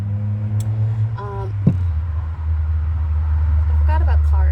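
Cars pass outside on a road, a steady low rumble of traffic that grows slightly louder toward the end, with brief voices over it.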